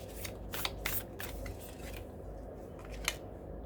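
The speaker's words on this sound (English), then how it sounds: "when I was just shuffling" Tarot or oracle cards are shuffled by hand in a quiet room, a run of soft crisp riffling swishes and taps in uneven bursts, close and fairly faint.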